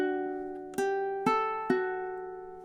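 A held note rings on ukulele as three distinct plucks follow in steady time, a measure of a song played close and unaccompanied, each note decaying slowly with no talking.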